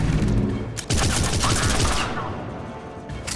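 Heavy bursts of gunfire in Mass Effect 3, a rapid stream of shots that stops briefly, then resumes in a loud, rattling volley before tapering off, with faint voices underneath.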